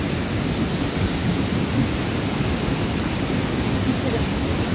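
Water pouring steadily from a pipe fitted to a mineral-water fountain near Rakaposhi mountain in Gilgit, Pakistan, a continuous close rushing splash with no breaks.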